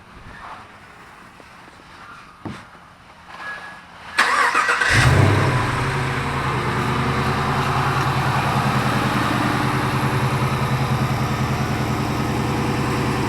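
Chevrolet LS3 V8 in an engine compartment cranks and fires, a couple of faint clicks giving way to the start, then a steady, loud, deep idle that settles and holds alone.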